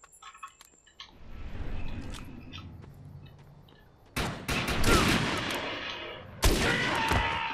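Video game gunfire in Defiance: sharp shots crack out after a quiet stretch, with two loud bursts of close, dense gunfire echoing and trailing off, plus a brief faint click early on.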